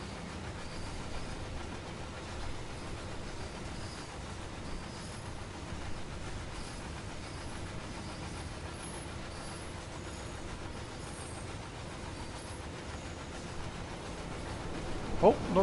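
A Class 40 diesel locomotive in Train Sim World hauls a long heavy oil train, giving a steady rumbling drone with faint wheel noise throughout, rising briefly near the end.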